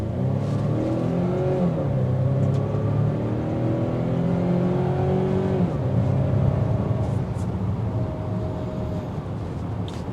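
A 2023 Volvo XC90 accelerating on the road, its engine note rising steadily through several climbing sweeps with a smooth whir, continuous and fairly close from inside the cabin.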